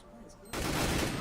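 M4 rifle fire in a Counter-Strike match erupts suddenly after a quiet moment, a dense burst of gunshots that stays loud for under a second to the clip's end.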